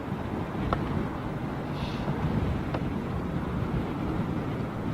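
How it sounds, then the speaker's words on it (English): Steady wind buffeting a microphone, a constant low roar with no clear gusts and faint background noise throughout. "It's just a constant, about a 20-mile-an-hour wind."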